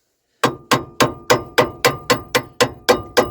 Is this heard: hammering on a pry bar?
yes